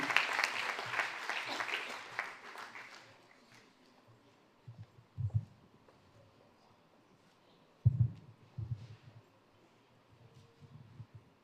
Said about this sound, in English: So please give him a round of applause for the work that he's been doing.